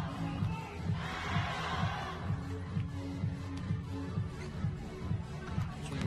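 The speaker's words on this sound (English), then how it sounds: "The crowd are getting behind their team." A volleyball crowd at a semi-final match cheers and roars for the Zhejiang team, a steady wash of massed voices with a louder swell early on, heard at a distance in a large arena.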